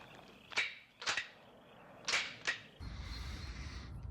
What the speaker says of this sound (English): an American paratrooper, US paratrooper, does his click with his clicker, and a German soldier responds with a ch-ch